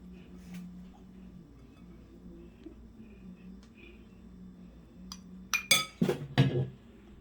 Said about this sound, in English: Here are all 3 of my dishes, and I'm going to plate them